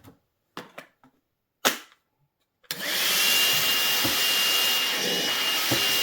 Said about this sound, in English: do some vacuuming.